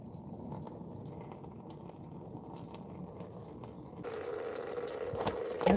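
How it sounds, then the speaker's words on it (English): Radiator coolant drains from the opened drain cap of a 2002 Toyota Tundra, a steady close splashing and trickling that grows louder and more gurgling toward the end. "It's draining out."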